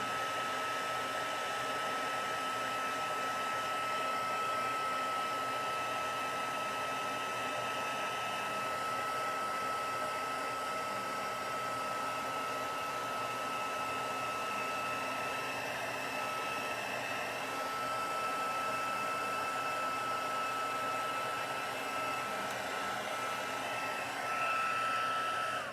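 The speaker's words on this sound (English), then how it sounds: "set your embossing gun aside" An embossing heat gun blows with a steady, hair-dryer-like whoosh that runs unbroken for about half a minute at even loudness, with no talking over it.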